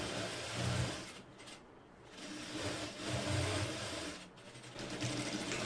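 A sewing machine stitches along the side seam of a skirt lining, a steady close mechanical whirr that rises and dips in speed in a couple of bursts, with no talking.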